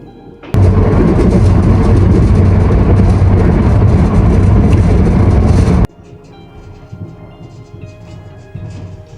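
A loud, continuous roar of a double-decker train travelling from Kutaisi to Tbilisi through snowy Georgia fills about five seconds, then cuts sharply to a quiet cabin hum with faint rattles.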